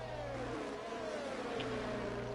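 A race car engine in a racing video game at the Abu Dhabi circuit drones steadily at high revs, its whining pitch gliding slowly downward, with no voices over it.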